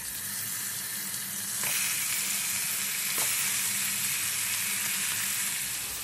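Hilsa fish frying in a pan, one of three being cooked, gives a steady, close sizzle with a bright hiss throughout and a couple of sharper crackles partway through.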